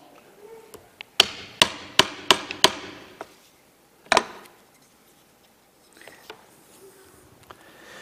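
Sharp strikes as an awl is driven through a piece of leather, a rapid run of five loud knocks followed by a lone hit, then quiet with faint rustling.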